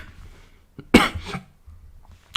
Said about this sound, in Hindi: सॉरी ये तो खांसी तो और ही परेशान कर रखी है